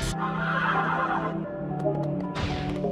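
Synthetic Servo Horse from the video game Narita Boy neighs in a loud, sustained whinny over a steady layer of game music, with a brief clanking burst near the end.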